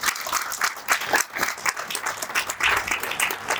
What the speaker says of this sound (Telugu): ఒక్కసారి గట్టిగా చప్పట్లు కొట్టాలండి, చాలా గట్టిగా చప్పట్లు కొట్టాలి.